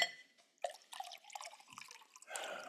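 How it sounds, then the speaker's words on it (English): Beer pours and trickles into a glass in a quiet room, faint gurgling and dripping spattering in short bursts after a brief pause, with no talk over it. "Pour it, please."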